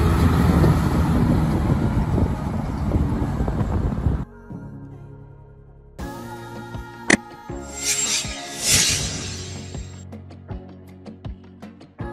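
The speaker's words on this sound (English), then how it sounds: "Road train truck." A road train truck's heavy engine roars steadily for a few seconds, then gives way to horn-like blasts, sharp clanks and rattles of the big rig on the move.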